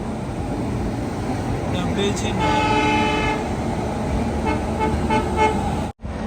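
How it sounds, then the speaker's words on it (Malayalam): The Tamil Nadu Express, bound for Chennai Central from New Delhi, rumbles past on the rails. A short horn blast sounds midway over the continuous rolling noise, which dips abruptly near the end. "ചെന്നൈയിലേക്ക് പോകുന്ന തമിഴ്നാട് എക്സ്പ്രസ് ആണിത്."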